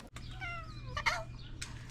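A cat meows a couple of short, fairly faint calls outdoors in a village along the Camino de Santiago pilgrimage route, with a soft steady background hum and a brief thump at the start.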